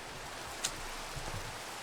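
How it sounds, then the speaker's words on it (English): Steady soft rain from a video game set in a hardcore survival run near a cave, an even hiss of falling drops with one brief sharp tick, no voices. "Hopefully it stops raining."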